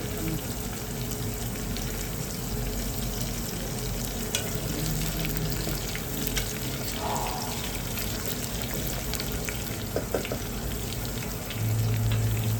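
Garlic frying in oil in a pan for a hyacinth bean curry, a steady low sizzle and crackle running throughout with a few light stirring scrapes, close and continuous with no talking.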